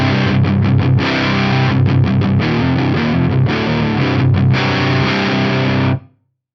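PRS SC245 electric guitar through a Synergy IICP preamp with the tone and two gain controls set at noon, playing a loud distorted riff of sustained chords with quick choppy rhythmic stops, then cutting off abruptly near the end.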